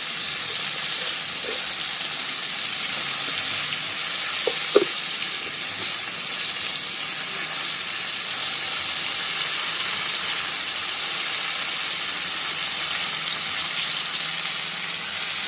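Potato pieces frying in oil make a steady, even sizzle throughout, broken only by a couple of small pops.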